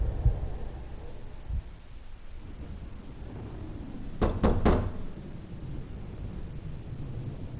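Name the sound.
fist pounding on a door, from the video game Death Mark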